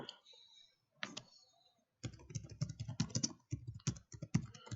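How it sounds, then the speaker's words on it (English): Rapid typing on a computer keyboard during a revision livestream, a short burst of clicks followed by a steady, dense run of keystrokes, fairly close and on its own without talk. "I'm just typing out that announcement."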